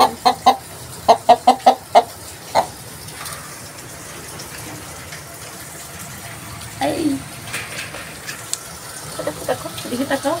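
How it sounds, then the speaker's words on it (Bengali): A domestic hen clucks close by in short, sharp bursts, with several quick clucks packed into the first few seconds. Quieter scattered fowl sounds and a faint watery background follow. "একটা মুরগি ও ডাকে, কক কক কক কক"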